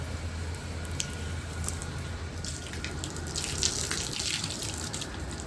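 Water is poured out to soak potted plants, giving a steady hissing splash that runs without a break and has a few brighter spatters. No one speaks over it.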